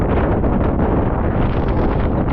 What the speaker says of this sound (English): I've kept my wind cover off so you can hear how windy it is out there.